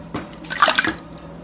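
Liquid for a rabbit soup splashes briefly into a cooking pot, a short close burst of pouring water lasting under a second.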